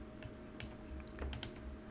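Computer keyboard keys pressed while entering point coordinates in ArcGIS, a short run of quick, quiet clicky taps at an uneven rhythm, close by with no talk.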